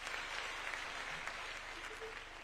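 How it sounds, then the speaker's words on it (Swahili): Sustained applause from an audience greeting the chair and board of management at a Kapsabet Girls school thanksgiving ceremony, a steady even wash of clapping throughout, fairly faint and distant. "Tuwapigie makofi."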